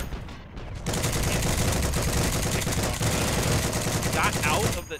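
Sustained automatic gunfire in the video game Heroes and Generals, a loud continuous rapid rattle of shots that runs almost without pause.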